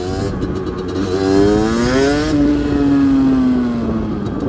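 A 50cc moped engine accelerates in first gear, its nasal buzz climbing steadily in pitch as the revs rise, then holding and easing slightly; loud and close, with no speech.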